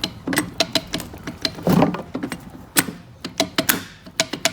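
Rebuilt clutch being slid onto the shaft of a Venom Motorsports Madix/Grizzly ATV, a close run of sharp metallic clicks and rattles in quick irregular bursts with one duller thud midway.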